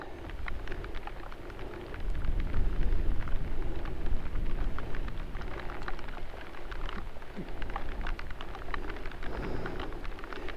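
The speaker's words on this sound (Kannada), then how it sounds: "ಈಗ ಮಳೆ ಸ್ಟಾರ್ಟ್ ಆಯಿತು" Steady rain falls on a forested hilltop, a constant close hiss with soft low rumbling beneath, which grows slightly heavier after the first couple of seconds and stays even.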